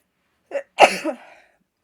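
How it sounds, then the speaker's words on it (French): A single sneeze with a short sharp intake before it, then a burst that trails off, close and clear with no talking. "Oups, excusez-moi, je vais éternuer."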